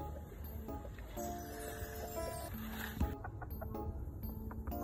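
Free-range chickens cluck softly around a small egg-laying farm, a scattered mix of short clucks and calls from several birds at a moderate distance over quiet outdoor background.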